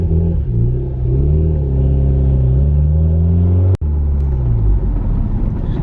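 A Mitsubishi Eclipse GSX with 70,000 original miles drives past, its engine giving a loud, steady mid-pitched rumble with slight rises in revs and a brief dropout near the end, with no voices.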